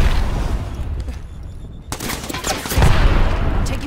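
Rapid automatic R99 submachine gun fire in an Apex Legends match, loud, dense bursts of shots filling the clip with a brief lull before firing resumes.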